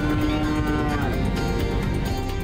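Cows mooing on a golf course, a loud, close, sustained low bellow filling the moment with no talk over it.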